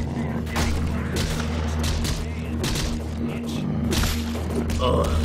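Gunfire in the zombie shooter game BrainBread 2, a burst of loud booming shots and thumps over a steady background drone, with a person talking in the clip.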